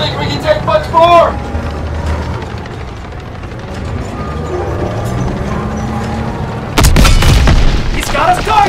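Tank cannon fire and shell impacts in the World War II shooter Call of Duty WWII, heavy booms with metallic clanks and a loud burst near the end, under continuous shouted talk.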